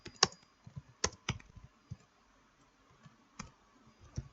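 Sparse keyboard clicks from someone typing code on a computer keyboard, a handful of distinct keystrokes in irregular bursts with pauses between them, close and fairly quiet with no talking.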